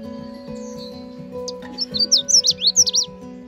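A Canada warbler in dense, moist undergrowth at Magee Marsh delivers a quick burst of sharp chirping notes, loud and close, over a low steady hum.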